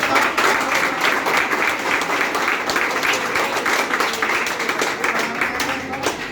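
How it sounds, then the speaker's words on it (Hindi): An audience at a yoga training and awareness gathering breaks into sustained, dense applause, many hands clapping steadily and fairly close for several seconds with no talk over it. "पांडे जी के लिए जोरदार तालियां होनी चाहिए"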